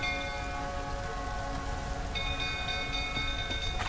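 Steady rain in The Witcher 3: Wild Hunt, a constant dense hiss of falling water holding at even loudness throughout, with faint tonal game ambience layered beneath it.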